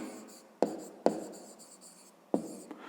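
A pen or chalk writing out a maths expression in a fifth-grade lesson: three sharp tapping strokes each followed by a soft, trailing scratch, close and moderately quiet, with no talking.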